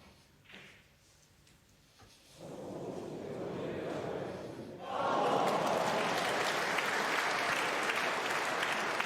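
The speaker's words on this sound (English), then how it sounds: "That cheer is for Jack Lazowski, who's just potted the re-spotted black to double his lead over Jamie Jones." A snooker crowd at the 2023 UK Championship bursts into applause after a potted re-spotted black, the clapping starting quietly, swelling, then surging louder and sustained to the end.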